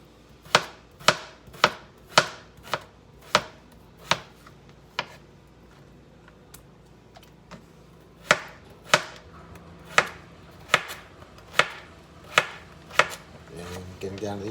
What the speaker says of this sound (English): Cucumbers are easy to slice.